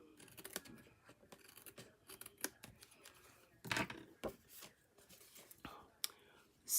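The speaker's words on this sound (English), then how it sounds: "There's a little bit extra down here at the bottom, so let's trim that off too." Scissors snipping away extra paper while trimming a handmade card, a series of quiet close crisp cuts with faint rustling between.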